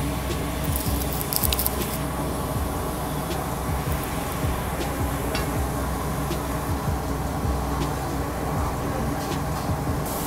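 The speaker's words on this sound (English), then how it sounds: "the whole thing is being fried up now in this kadai under an amazing, tremendous flame" Bengali mutton fries in a kadai over a strong flame, a continuous loud sizzle and wet bubbling with scattered clinks and scrapes of the ladle, no voices.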